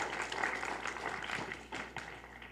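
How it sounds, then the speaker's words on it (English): Audience applause fills a town hall meeting, a dense, steady wash of many hands clapping at moderate distance and fairly low level, holding without a break. "Can we give them a round of applause,"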